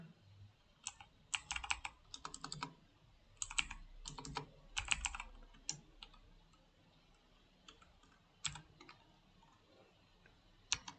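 Quiet, close keystrokes on a computer keyboard while writing Flutter Firebase code, coming in irregular bursts of crisp clicks with short pauses and no speech.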